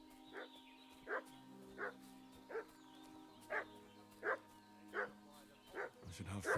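A dog in Kingdom Come: Deliverance II barks again and again, about nine evenly spaced sharp barks at a moderate distance, set against a quiet sustained game-music drone.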